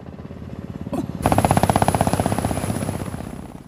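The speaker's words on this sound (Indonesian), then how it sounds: "Tak lama kemudian, helikopter pun datang menjemput mereka." A helicopter's rotor chops in fast, steady pulses, swelling loud and close after a brief quieter lead-in, with a thin high whine above.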